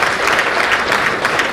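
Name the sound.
audience clapping loudly for madam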